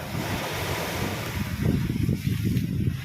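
Sea waves surging at high tide on a windy shore, a steady broadband wash with heavier rolling surges building in the second half, wind noise buffeting the microphone, no voices.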